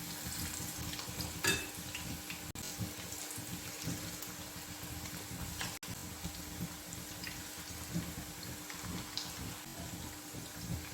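Raw chicken fries in a pan on medium heat for a chicken pasta dish. A quiet, even sizzle crackles steadily for the full eleven seconds, with occasional faint pops and no talking.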